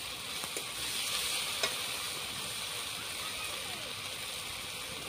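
Chopped onions fry in hot oil in a pan while ginger-garlic paste is added for a rohu fish curry with corn, a steady soft sizzle with a couple of faint clicks from stirring, close and unbroken, without talk.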